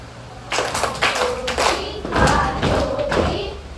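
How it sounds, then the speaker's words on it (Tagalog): A group of schoolchildren in a classroom claps three times and stamps three times in a few quick bursts, loud and close, with voices mixed in among the thuds. "Bigyan ako ng tatlong palakpak, tatlong padyak"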